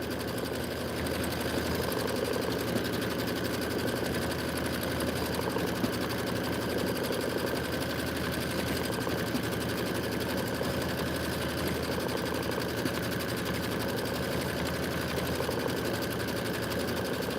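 Embroidery sewing machine stitching out a quilt border, a steady fast mechanical whir and chatter running continuously at an even level throughout.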